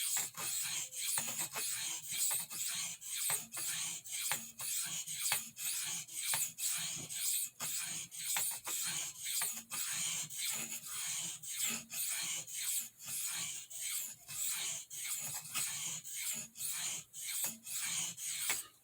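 A large stockman knife is stroked repeatedly across a soft Arkansas oilstone, giving a steady rhythm of close, rasping scrapes, each pass separated by brief pauses, with no talking.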